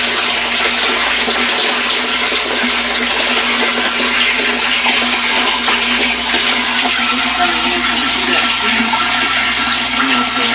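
Biodiesel draining from a wash tank into a dry tank makes a steady, continuous rush of pouring liquid, loud and close, with no pauses and no talking throughout.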